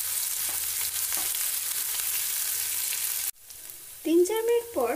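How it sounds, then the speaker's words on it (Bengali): Onions frying over a high flame in a Bengali village kitchen give a steady, loud sizzle for about three seconds, then it cuts off and a few short voiced chirps follow. "এখন পেঁয়াজগুলিকে খুব হাই ফ্লেমে ভালো করে ভেজে নিতে হবে"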